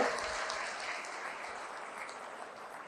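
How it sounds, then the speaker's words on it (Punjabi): Applause from a crowd at a political rally addressed by Punjab's Chief Minister Mann: dense, steady clapping that fills all three seconds without letting up. "ਤਾੜੀ ਮਾਰ ਕੇ ਸਾਡੀ ਟੀਮ ਦਾ ਹੌਸਲਾ ਵਧਾ ਦਿਓ"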